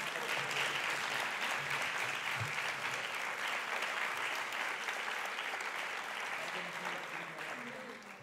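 Audience applauding at the Figueres Talent 2024 award ceremony, dense sustained clapping from a crowd indoors, steady and loud, tapering slightly at the end.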